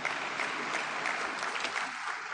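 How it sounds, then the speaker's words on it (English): Audience clapping for a chief guest at a school annual function, a steady continuous patter of many hands at moderate distance with no voices. "Can we have a great round of applause?"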